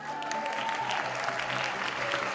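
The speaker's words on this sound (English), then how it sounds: "give you a round of applause right now" Steady applause from a crowd, dense clapping that stays even throughout with no breaks.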